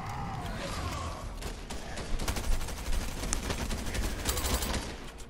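Rapid bursts of video game gunfire crackle loudly and almost nonstop, with dense automatic fire thickening in the second half over a busy in-game soundscape.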